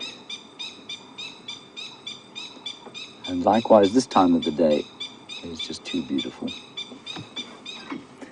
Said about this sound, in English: That bird you can hear calling is the Coqui Franklin